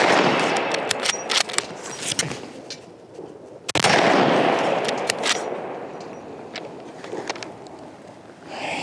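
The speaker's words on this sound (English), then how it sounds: "we'll take a few shots with it." A scoped Ruger .44 Magnum carbine fires several loud, sharp rounds outdoors, each blast followed by a long rolling echo that fades between shots.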